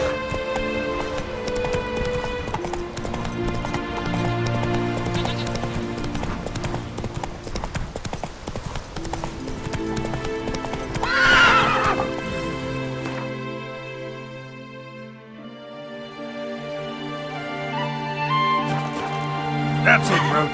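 Geralt's horse gallops in The Witcher 3, a steady run of hoofbeats clopping under a music score, with a brief flare of louder sound midway and voices talking now and then over the ride.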